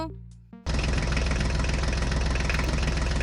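An HMT mini tractor engine cranks briefly, then catches and settles into a loud, close, steady idle with a rapid, regular diesel-like chug and knock.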